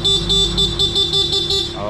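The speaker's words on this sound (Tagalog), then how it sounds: "stock horn," Stock horn on a Honda ADV160 motorcycle, sounded close up as a rapid string of about seven short, bright beeps in quick rhythm.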